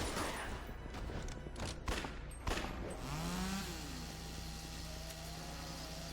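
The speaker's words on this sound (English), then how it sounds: "Remember, there's a chainsaw." A chainsaw in the video game Yakuza Dead Souls revs up, then settles into a sustained rising and holding drone. Bursts of game gunfire and clatter come first, and the game sound plays quietly throughout.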